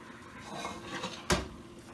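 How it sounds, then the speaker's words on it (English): Metal canning lids go onto glass jars of fireweed and raspberry jelly, giving a faint rustle and then one sharp clink. The sound is close and quiet. "I'm going to proceed to put my lids on."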